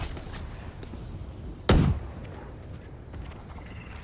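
A Valorant flashbang going off once at close range, a sharp loud bang standing alone over low background game noise.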